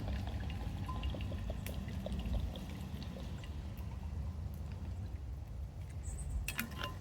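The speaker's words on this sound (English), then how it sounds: "Get some water in here." Water pours steadily into a metal Ozark Trail mess kit pot, a close, continuous gurgling stream with a few drips and clinks near the end.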